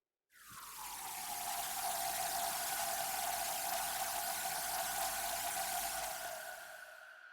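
Omnisphere synth pad with a swirly effect, imager and auto pan, swelling in quickly and holding a steady, bright, airy wash with a sustained tone before tailing off near the end, with no talking.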